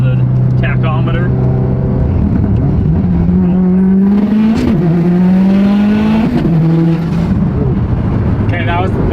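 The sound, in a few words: Subaru STI engine revving, over 600 whp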